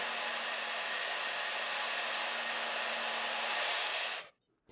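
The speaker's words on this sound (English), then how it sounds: "I've got the hairdryer on. Oh, it's very loud." A hair dryer blows with a loud, steady roar and a low hum underneath, then abruptly cuts off near the end.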